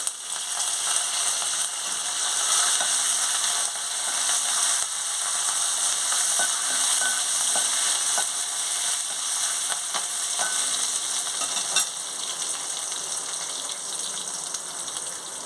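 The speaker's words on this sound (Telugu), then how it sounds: "తర్వాత వెల్లుల్లి, కరివేపాకు వేసుకుంటున్నాను" Garlic and curry leaves fry in oil with a continuous sizzle, punctuated by occasional scraping clicks from stirring.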